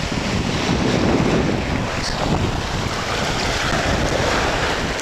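Sea waves wash onto a sandy beach in Mersin, Turkey, in a constant roar mixed with wind gusting against the microphone, continuous and fairly loud, no speech.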